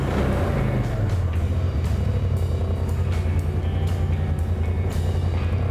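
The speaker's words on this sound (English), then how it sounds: "let's go ahead and fire up the engine real quick" A Polaris RZR engine runs close by with a steady low idle rumble and a few light blips of revving over it, no talk.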